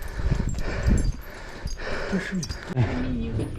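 A dog whimpers and yips in short bursts amid outdoor bustle, with muffled voices and rustling around it.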